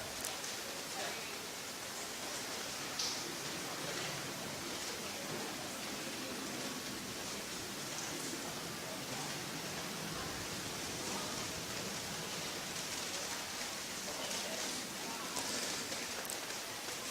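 Steady rain runs off covers at an outdoor pinball-style Golden Nugget tournament round, a continuous broadband wash of patter and dripping, faint and even throughout with no distinct events.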